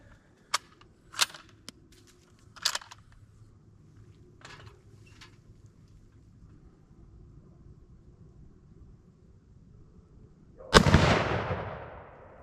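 Several sharp, distant-sounding cracks from a 6.5x52 Carcano 91 TS rifle are followed by quiet, then one loud, close gunshot with a long, rolling echo at the end.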